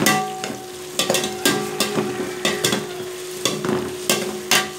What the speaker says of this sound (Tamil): அப்புறம் வந்து பார்த்தீங்கன்னா கருவேப்பிலை. இந்த ரெண்டையும் போட்டு பதக்கிக்கிறோம்.